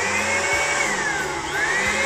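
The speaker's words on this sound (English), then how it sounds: "electrical blower, no? Electric blower." An electric blower runs with a steady, loud whirring hum during maintenance on a harvester and tractor, its pitch wavering slightly, with faint low knocks underneath and no speech.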